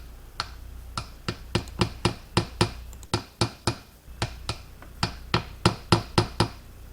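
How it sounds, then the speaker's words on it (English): A little hammer tapping a part into place, about twenty sharp, close metallic taps in a steady, slightly uneven rhythm with brief pauses between runs. "I like to take a little hammer and just tap it in"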